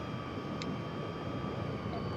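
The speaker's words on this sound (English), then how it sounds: "I love flying my helicopters" Helicopter in the Prepar3D flight simulator, a steady engine and rotor drone with a constant whine on top, heard alone with no talking.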